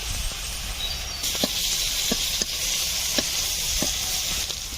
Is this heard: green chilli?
yes